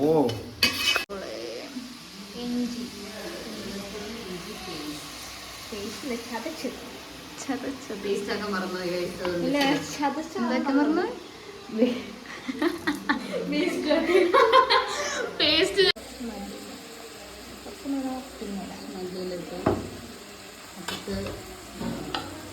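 Onions sauté in a pan while a spoon stirs them, with steady sizzling, intermittent scraping and clatter, and people talking and laughing over the cooking throughout.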